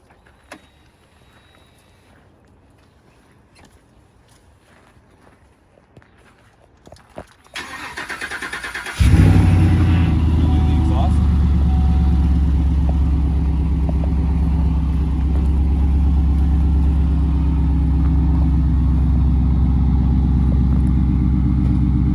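After quiet clicks, a 2017 GMC Sierra Denali 1500's cold 6.2-litre V8 with Borla exhaust cranks and fires up loudly, then settles into a deep, steady rumbling idle close by.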